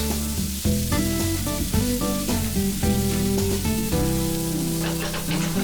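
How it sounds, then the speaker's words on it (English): Goan pork sausage meat fries in a pan with chopped tomato, making a steady sizzle beneath prominent background music. "Then add the sausage meat and fry it for about 2 to 3 minutes."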